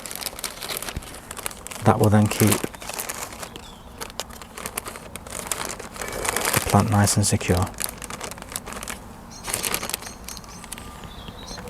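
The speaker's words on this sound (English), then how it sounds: "we can place the whole bag over the top of the plant, and then using that zip" A plastic zip bag crinkles in short bursts as it is placed over a Verbena bonariensis cutting, with two louder rustles amid quieter handling, while a person talks over it.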